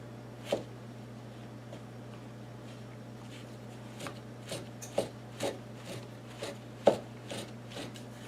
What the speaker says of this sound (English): we're going to start chopping all our mushrooms